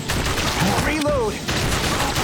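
Rapid gunfire from a handgun in the House of the Dead Remake, a quick burst of shots over game noise with a brief voice cry in the middle.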